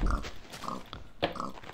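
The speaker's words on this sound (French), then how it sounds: "il y a toujours des petits cochons là pour redonner de la vie" Pig oinks from the Minecraft survival game: a few short, close grunts spaced about half a second apart, with no one talking over them.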